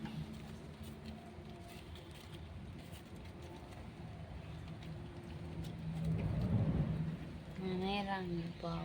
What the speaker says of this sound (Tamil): ஆனால் இப்போவும் மழை வந்துக்கிட்டே தான் இருக்கு.